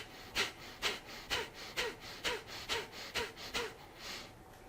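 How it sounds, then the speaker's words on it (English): A person repeatedly forces out sharp breaths while pulling in the gut, about ten quick, evenly spaced puffs in a steady rhythm, close and fairly quiet with no talking. "The breath is flowing in and I'm forcibly exhaling as I suck in my gut."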